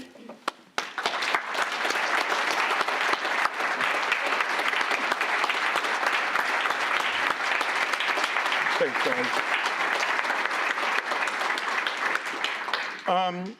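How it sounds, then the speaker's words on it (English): Sustained applause from an awards and installation ceremony audience, a broad steady wash of clapping that starts abruptly, with a brief spoken thanks near the end as it fades. "You're recognized for another round of applause"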